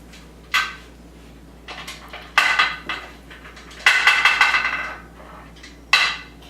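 A pressure canner used for canning chicken is opened: its metal lid and weight come off in a series of sharp, close metallic clanks and rattles, separated by quiet pauses.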